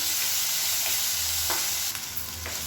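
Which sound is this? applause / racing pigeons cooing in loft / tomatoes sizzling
tomatoes sizzling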